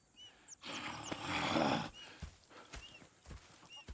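A horse in Red Dead Redemption 2 gives a loud whinny, followed by scattered hoof clops and soft snorts close by, with no speech.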